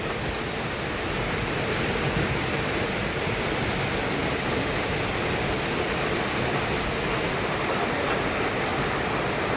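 A river swollen by heavy monsoon rain rushes past below a bridge, producing a loud, steady, unbroken roar of fast water with no voices.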